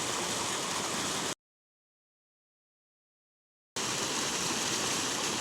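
Fast-flowing stream water rushing loudly and steadily in the Australian bush, broken by a silent gap in the middle before the same close roar returns.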